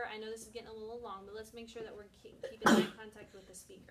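A single sharp sneeze bursts out from someone in a classroom lesson, loud and brief, cutting across a teacher's ongoing talk.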